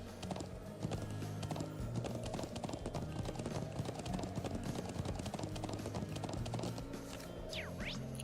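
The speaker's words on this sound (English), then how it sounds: "God, I love riding the horses." Horse hooves clip-clopping steadily while riding in the Trails of Cold Steel video game, a quiet continuous rhythmic trot over ambient game sound, with a brief whinny-like sweep near the end.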